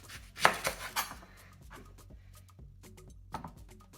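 Knife chopping through the base of a leek on a cutting board, a few sharp close cuts in quick succession, then quieter scraping and a couple of faint knocks.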